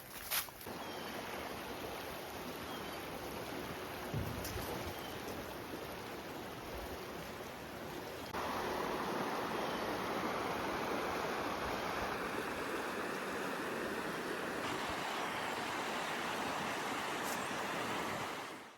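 A river in Vermont flows with a steady, broadband rushing of water, heard close and continuous for about nineteen seconds. The water grows slightly louder partway through, and no voices are heard.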